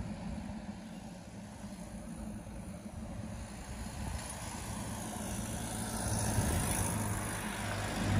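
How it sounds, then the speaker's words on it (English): A small Nissan pickup truck with a holed muffler rumbles on a downtown street in Chanute, Kansas, its raspy low engine drone steady and moderately close, swelling slightly toward the end, with no talk. "Sounds like it got a hole in the muffler."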